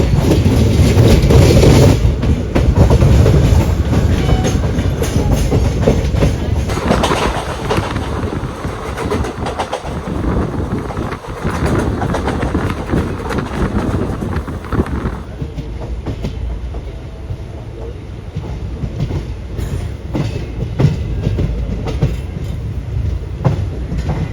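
Palaruvi Express running on the Thoothukudi–Palakkad route near Ernakulam, a loud continuous rumble of wheels and carriages with clickety-clack on the rails, heavier at first and then easing into a steadier roll.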